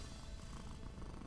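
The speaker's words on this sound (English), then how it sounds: "The blacksmith has a kitty over here." Blacksmith's pet cat purring in the video game Medievalien, a soft, continuous low rumble that stays steady and fairly quiet, with no talking over it.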